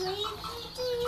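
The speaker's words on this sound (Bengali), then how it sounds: "মিশরীয় ফার্মি মুরগি" Young Egyptian Fayoumi chicks held in hand give high, thin cheeping calls in short repeated runs, close by and fairly quiet, over faint room noise.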